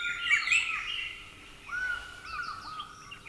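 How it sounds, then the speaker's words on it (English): A Heuglin's robin sings from a riverside tree in the African bush, a loud, close series of clear whistled and warbling phrases rising and falling, with another bird calling faintly in the background. "That is the Hugelin's robin."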